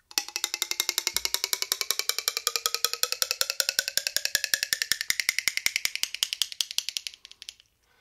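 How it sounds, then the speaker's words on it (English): An adjustable Clackamore jaw harp is plucked in a fast, even train of percussive clicks, with a resonant overtone sweeping steadily upward as the playing continues, loud and close, before the notes fade out near the end. "And that is the sound of the Clackamore."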